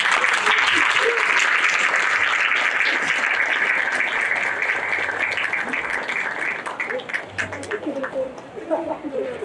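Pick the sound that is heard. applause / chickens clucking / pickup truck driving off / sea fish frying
applause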